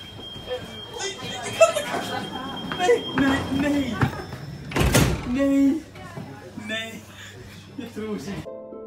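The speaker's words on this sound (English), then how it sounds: "This person fell off the train and the doors closed before she could get back on." Train doors slide shut with a heavy thunk near the middle, against a busy station backdrop of voices, rumble and clatter.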